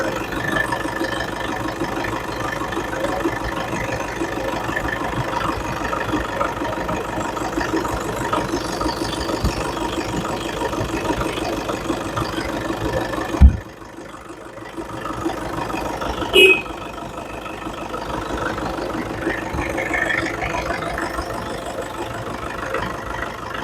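A 2015 Toyota Innova 2.5 G diesel engine idles with a steady, even hum at close range, broken by a sudden thump and a brief dip in level partway through, then settling back to the same low drone.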